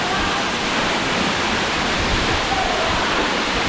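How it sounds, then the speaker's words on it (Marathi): Plough-shaped waterfall in a gorge at Amboli, a steady, loud rush of falling water filling the whole stretch with unbroken broadband roar and no voices. "अप्रतिमाचं दृश्य आहे नांगरकास धबधब्याचं."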